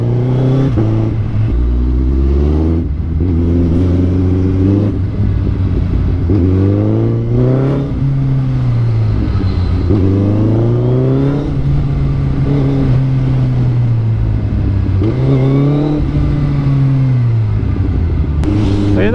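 Suzuki Hayabusa motorcycle engine revving hard and close, its pitch climbing and falling in repeated loud sweeps through the gears, with no talk over it.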